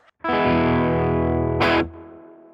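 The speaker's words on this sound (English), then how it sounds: "Let's take a quick moment to talk about that spring reverb tank." A sustained, thick electric guitar chord rings out with a short spring reverb tail on a low setting, then a quick strum hits and fades into a moderate, rich decay.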